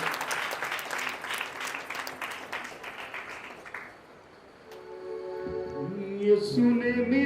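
Applause at a Christian wedding ceremony with worship, dense clapping from a gathered congregation for about four seconds, then fading as music and singing take over.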